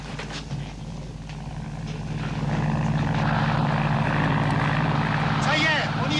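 A propeller airplane carrying skydivers drones and grows steadily louder as it nears, holding a strong hum, with faint voices in the background.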